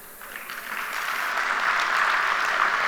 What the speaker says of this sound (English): Oh, little clap